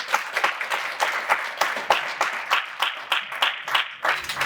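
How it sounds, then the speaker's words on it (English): Applause from a modest student government debate audience, clapping in quick uneven bursts that stay fairly loud for a few seconds, with no voices over it. "give them a round of applause"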